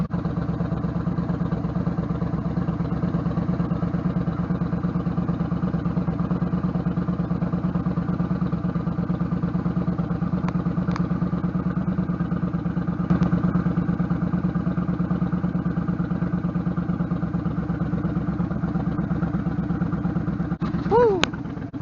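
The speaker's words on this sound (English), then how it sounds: "I'm just gonna let the bike warm up a little, let it get hot" A motorcycle engine idles steadily while warming up, a close, even low throb with a continuous rhythmic pulse and occasional small clatters, running throughout.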